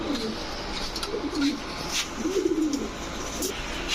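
Domestic pigeons, a male muzwala and its hen, coo in low repeated rolling phrases close by, with a few sharper chirps over steady background noise.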